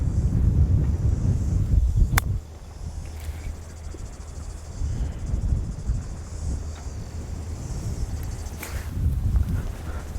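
Gusty wind buffets the microphone outdoors, a heavy low roar that surges and fades, with a faint scuff of movement and a thin high tone.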